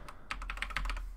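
Quick, quiet keystrokes on a computer keyboard tap out a password at an Ubuntu 17.04 login screen, about eight close clicks in a fast run.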